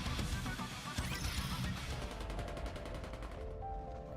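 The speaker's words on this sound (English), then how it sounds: "Gunfire rings out." Dense bursts of gunfire and crashing impacts from the video game Nikke: Goddess of Victory crackle loudly, then fade into rapid repeated shots and a fading electronic tone.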